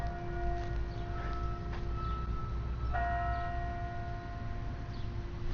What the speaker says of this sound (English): Church chimes in the background.